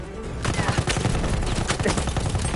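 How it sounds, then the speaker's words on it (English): Dense automatic gunfire in a 5v5 team deathmatch video game firefight, loud rapid bursts overlapping continuously after a short quiet lead-in. "Firefight at the gate, missing."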